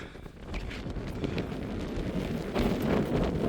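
Strong wind gusts across an exposed mountain summit on Skirrid Fawr in the Brecon Beacons, a continuous low roaring buffet against the microphone that swells toward the end.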